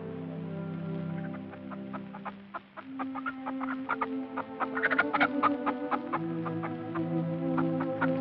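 Chickens clucking near a shelter, with a steady run of close, choppy clucks over a low background hum and no talking.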